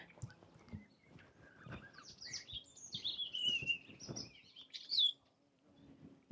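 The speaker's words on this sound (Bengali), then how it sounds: "পাখির কিচিরমিচির আওয়াজ শুনতেছেন" Small birds chirp and trill in a Rwandan village, with a run of quick, high calls in the middle, set against soft footsteps and faint thumps of someone walking nearby.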